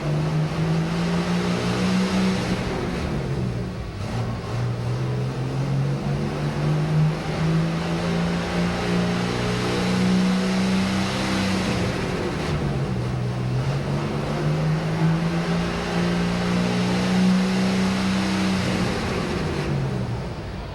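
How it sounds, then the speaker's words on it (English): A John Deere pro stock pulling tractor roars steadily at full throttle through a 1994 NFMS pull in Louisville, Kentucky, its loud, continuous engine drone rising and falling in pitch several times without pause. "He's ready to go with that last John Deere of the night."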